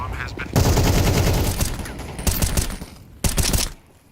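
Dense bursts of Counter-Strike gunfire and a grenade blast in a pro match at IEM Cologne 2025, loud close volleys from the start, a pause, then a final sharp flurry, with a commentator's voice running underneath.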